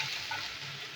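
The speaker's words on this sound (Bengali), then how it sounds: "তো বরবটিগুলো আমি ভেজে নিচ্ছি।" Yardlong beans fry and get stirred in a pan, a soft steady sizzle with faint scraping of the spoon, close but quiet and with no talking.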